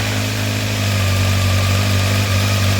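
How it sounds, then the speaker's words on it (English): A 1993 Honda CBR900RR California-spec motorcycle engine idles slightly high, a steady loud close drone with an even low throb and no talking. "It's idling a little bit high."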